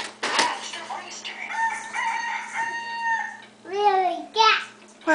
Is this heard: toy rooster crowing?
yes